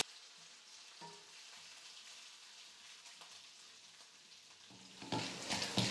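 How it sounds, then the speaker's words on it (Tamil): Finely chopped green chillies hit hot oil with mustard seeds and dals, and after a faint, quiet start a loud, dense sizzle bursts out near the end. "இது கூடவே 2 பச்சை மிளகாய் எடுத்து நான் பொடியாக நறுக்கி வச்சுருக்கேன்"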